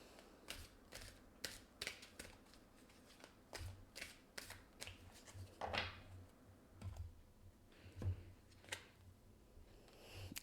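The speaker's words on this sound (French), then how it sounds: "Je vais aller chercher une autre carte." Tarot cards shuffled by hand in a quiet room, a rapid run of crisp riffling flicks and soft slaps, close and moderately faint, continuing steadily with short pauses and no voices.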